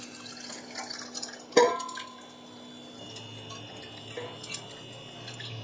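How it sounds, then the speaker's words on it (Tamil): Tamarind squeezed by hand in water for a fish curry, giving soft wet drips and small splashes with one sharper splash partway through, faint and close in a quiet kitchen. "புளி தண்ணியை கரைச்சிக்கிட்டு இப்போ 2வது புளியை அந்த தண்ணியும் சேர்த்துக்கிறேன்"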